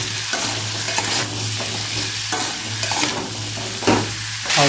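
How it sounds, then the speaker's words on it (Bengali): Potato pieces with a little turmeric fry in a pan for niramish alu posto, a dense close sizzle broken by repeated spatula stirs and scrapes at a steady pace, with no one talking. "আলুটা একটু ভালো করে ভেজে নেবো।"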